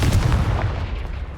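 A Confringo blasting spell cast in Hogwarts Legacy: a single punchy explosive burst with a booming low end that decays quickly over about a second, heard alone.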